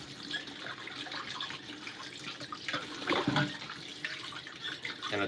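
Tap water running into a sink during knife sharpening, a steady rushing stream with slight surges and splashes near the middle, close and continuous with no talking.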